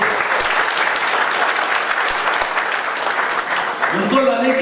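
Sustained audience applause at a BJP political event, a dense, loud wash of clapping from a large crowd that continues steadily before a voice breaks in near the end.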